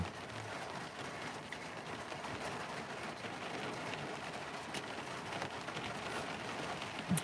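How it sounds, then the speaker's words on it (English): Steady rain falls outdoors, a dense, even hiss of drops on surfaces that holds throughout at a moderate, fairly distant level with no voices. "Just can't seem to shake off the rain, can we?"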